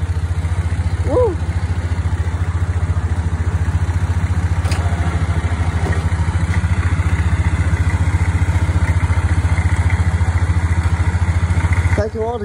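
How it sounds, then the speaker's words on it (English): A four-wheeler ATV used for ploughing snow runs steadily, its engine chugging loud and close throughout with a slight rise toward the end, while a brief voice cuts in near the start and at the close. "the four wheeler. We're firing it up."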